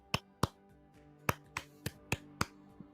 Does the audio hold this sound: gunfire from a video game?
no